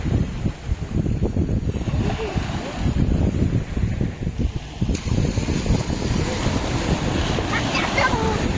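Sea waves wash continuously onto Revdanda beach at night in a rolling low rumble, with heavy wind buffeting the microphone and faint voices here and there.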